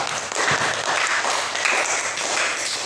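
Classroom students in a mathematics lesson clap together in a dense, steady burst of applause that fills the room for the whole stretch, fairly close and sustained.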